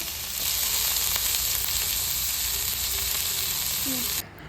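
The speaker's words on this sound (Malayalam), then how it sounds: "ഇനി ഇതിലേക്ക് നമുക്ക് സവാളയും കൂടി എടുത്തിട്ട് കൊടുത്തിട്ട് നല്ലപോലെ ഒന്ന് മിക്സ് ചെയ്ത് കൊടുക്കാം." Sliced onions and curry leaves sizzle in hot oil in a pan while cooking liver fry, a loud steady crackling fry that holds for several seconds, then drops off sharply near the end.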